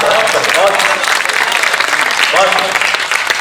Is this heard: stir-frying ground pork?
no